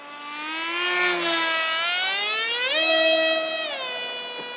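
A Sonicmodell F1 RC flying wing's electric motor and propeller run at full throttle, a loud, piercing whine that rises and falls in pitch as the plane passes and swings around.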